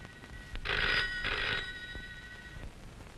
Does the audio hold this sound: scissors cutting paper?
no